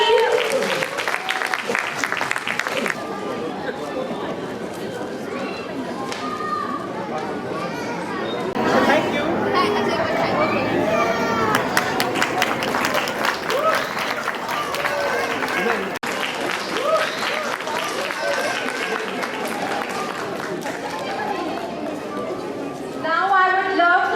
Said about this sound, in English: Please give a big round of applause for Aravind.